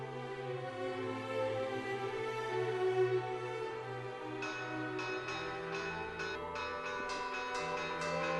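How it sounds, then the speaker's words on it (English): The belfry bells of the Santa Clara church in Cusco ring for the Corpus Christi moving of the saints to the cathedral, with sustained resonant tones and repeated strikes growing busier toward the end, heard steadily at a distance. "the strokes of Santa Clara's belfry announce the moving of the saints to the cathedral"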